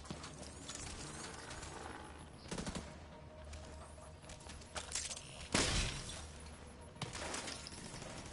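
Gunfire in The Division 2 video game: rapid bursts of automatic fire with sharp louder shots around the middle and end, over a dense, noisy battle backdrop, no talk.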